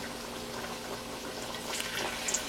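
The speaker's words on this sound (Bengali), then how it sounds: "আমি এক এক করে পিঠাগুলোকে এখন দিয়ে দিব তেলের মধ্যে" Moong dal pitha, a Bangladeshi fried snack, bubbles gently in oil over medium heat, giving a faint continuous fizzing crackle with a few brief brighter pops near the end.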